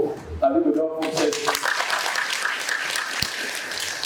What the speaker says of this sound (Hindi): लेकिन बैठिए, इनको ताली बजाओ से।